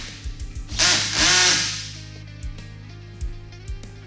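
Power tool or ratchet tightening the clamps of a hard flip-up bed cover on a 2010-2018 RAM 1500 pickup, with a steady whirring burst in the middle and scattered clicks and knocks before and after.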